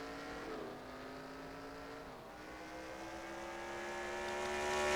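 A race car at the 2015 24 Hours of Sonoma brakes into the hairpin, the engine note falling and dipping as it slows, then climbing steadily again as it powers out and accelerates away, growing louder toward the end.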